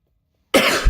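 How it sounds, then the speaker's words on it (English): A single sharp cough breaks out of silence, close and loud. "I'm coughing a lot."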